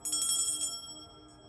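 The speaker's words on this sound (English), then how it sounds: "ring the bell to clear the air and the energy." A small bell is struck once at the start of a tarot reading, ringing brightly with a quick shimmering attack, then decaying into a sustained metallic tone that fades away over about a second, heard alone without any talking.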